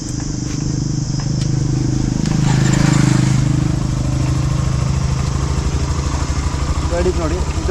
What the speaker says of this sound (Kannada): ಗಾಡಿ ಸ್ಟಾರ್ಟ್ ಮಾಡ್ತೀನಿ ಇವಾಗ ನೋಡಿ.